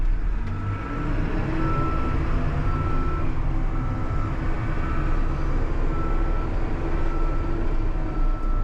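A Caterpillar 420D backhoe idles steadily while warming up in snow, a continuous close diesel rumble with a faint tonal whine holding evenly throughout, no voices.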